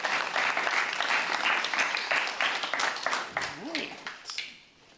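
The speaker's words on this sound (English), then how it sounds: "I would like to give another round of applause for our graduating class of 1030." Audience applause fills a guide dog graduation ceremony for the graduating class, steady dense clapping that tapers off toward the end, with a brief voice cutting in as it fades.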